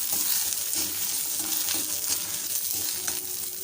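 Urad dal, dried chillies and tamarind fry in oil in a pan for a Mangalore-style tiffin dish, giving a close, steady sizzle with scraping stirs running through it.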